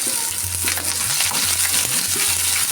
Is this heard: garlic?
yes